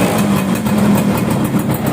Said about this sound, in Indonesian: Suara ya ciri khas 2 tak lah ya, nggak terlalu halus ya, nggak terlalu halus.